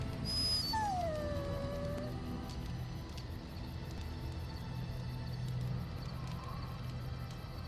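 A dog in the video game Dragon Age: Origins lets out a rising whine and yip followed by a drawn-out falling howl, then quieter whimpers over a low ambient game hum, with no speech.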